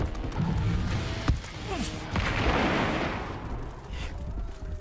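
Gunfire rings out in the video game EarthFall, a dense chaotic barrage of shots and thudding impacts layered over a loud battle din, with a few sharper cracks standing out. No voices are heard.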